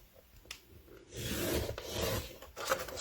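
Scissors trimming scrap paper pieces, a quiet close rasping cut with soft rubbing and a few light snips, no talk.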